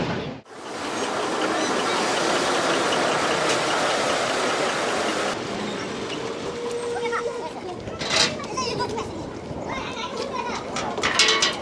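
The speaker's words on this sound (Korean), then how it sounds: "지금 열차가 들어오고 있습니다." A train arriving at a station in rural Mongolia gives a sustained broad rumbling roar that eases into a lower engine hum, while children and other people chatter nearby and a faint tonal whine appears mid-way.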